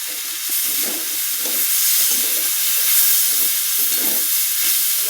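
Okra and potato curry with cumin and coriander powder sautéing in a pan, a steady loud sizzle with soft scraping stirs recurring throughout.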